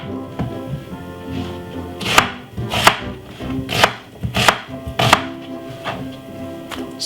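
Knife chopping a white onion very small on a cutting board for chicken curry, a run of crisp, firm chops at an uneven pace, close and loud, with no voice over it.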